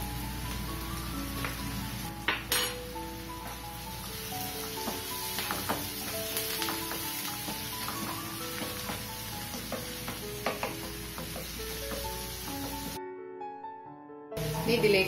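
Ginger garlic paste sizzles and spits steadily in a hot pan, a dense close crackle with occasional spoon scrapes and stirring taps, briefly cut off near the end.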